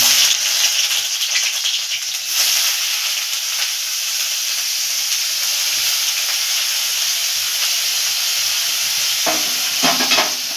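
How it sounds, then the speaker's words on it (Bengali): Chopped onion hits hot white oil in a wok, giving a loud, steady sizzle and hiss that runs throughout with no talking, with a few brief stirring scrapes near the end. "এবার আমরা পেঁয়াজ কুচিটা এর মধ্যে দিয়ে দেব"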